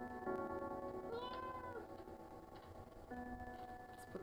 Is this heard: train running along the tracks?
no